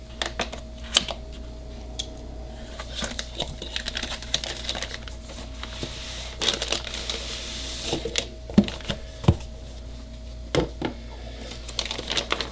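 Box of a TREX 150X helicopter being opened on a workbench, with scattered crinkly rustles and light plastic clicks at close range, irregular handling noises spread across a quiet background and no talking.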